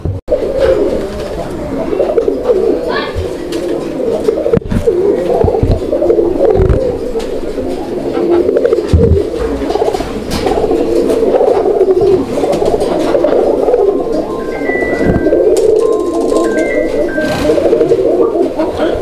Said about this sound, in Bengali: অনেক চমৎকার ডাকটা দিচ্ছিল, আমরা ডাকটা দেখাই দিলাম আপনাদেরকে।